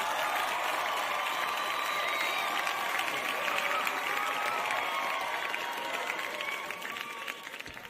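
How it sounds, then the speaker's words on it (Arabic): Steady applause from an audience saluting people born under the Cancer zodiac sign, a dense even patter of many hands at moderate distance, holding for several seconds before thinning slightly at the end, with no voices standing out. "بالله تصفيق على ناس السرطان جمله."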